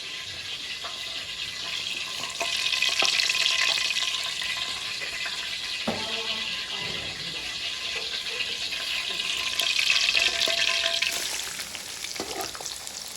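Onions frying in hot ghee give a steady, close sizzle that swells louder twice, with occasional clinks and scrapes of stirring in the pan.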